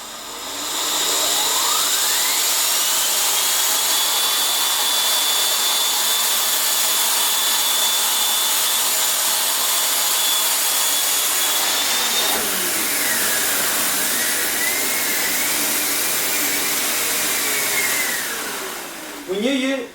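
A Top Dog vacuum cleaner roars at maximum power, a loud, close, continuous whine whose motor pitch climbs and falls as it spins up and settles, running alone until it cuts off at the end.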